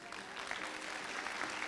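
Congregation applauding at a Spanish-language church service, a faint, steady patter of clapping hands heard from a distance with no voices over it.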